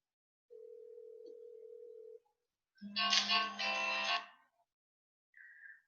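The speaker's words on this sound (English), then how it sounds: "So I'm going to call my other phone." A phone call's outgoing tones: a steady single tone lasting about a second and a half, a brief gap, then a louder, rich two-part ringback burst, and finally a short faint high beep.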